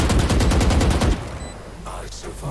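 Rapid gunfire bursts in the shooter game Valorant, loud and dense for about a second before cutting off to quieter game ambience and faint sounds.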